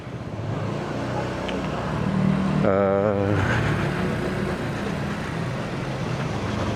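Honda Stylo scooter ridden at night, its steady engine hum and road rumble continuous throughout, with a brief tonal rise midway as a voice speaks over it.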